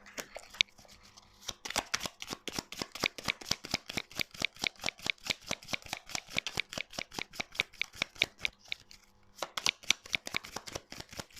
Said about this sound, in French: Veuillez faire sauter les cartes, s'il vous plaît.